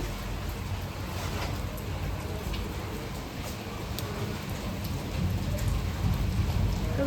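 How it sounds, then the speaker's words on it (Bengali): Steady rain falls on surfaces with a constant dense patter, while low rumbles of thunder roll underneath, heard outdoors for about seven seconds without talk. "বৃষ্টি পড়ছে"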